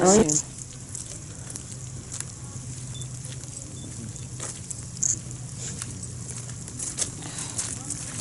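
Heavy rain falling outdoors at Fort Langley, a steady broadband patter with faint crackling spatters, continuous over several seconds under occasional quiet voices and movement.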